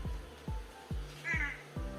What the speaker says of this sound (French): Mais pourquoi tu miaules?